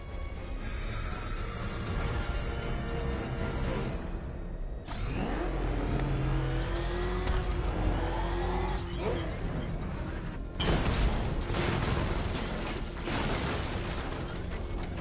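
The Batmobile in Batman: Arkham Knight revs and accelerates, its engine pitch rising and falling in loud sweeps, with gunfire and crashes from gameplay mixed in.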